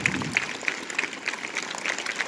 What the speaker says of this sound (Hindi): एक बार बच्चों के लिए जोरदार तालियां बजाइए